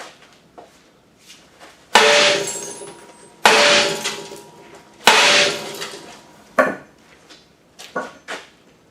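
A golden sledgehammer strikes a car part, likely the radiator support, with three loud, sharp metallic impacts spaced about 1.5 seconds apart, followed by lighter knocks and clatter.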